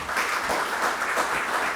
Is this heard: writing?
no